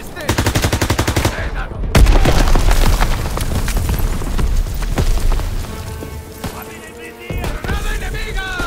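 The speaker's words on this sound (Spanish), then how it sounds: "¡Granada va!" Heavy booming blast and bursts of gunfire in the World War II shooter Call of Duty WWII, a loud grenade explosion around mid-clip amid rapid shots, with a brief shout nearby.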